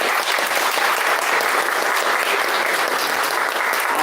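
Steady, dense applause from an audience at an evening event on women's leadership in infrastructure engineering, welcoming the engineer presiding over the session. Clapping stays close and even throughout, with no voices on top.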